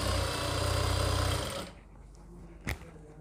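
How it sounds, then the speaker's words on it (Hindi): A sewing machine runs steadily, stitching the edge of a kurti, with a continuous whirring hum that stops about halfway, followed by a brief knock and quiet. "इसके किनार पे बिल्कुल सिलाई लगाएंगे"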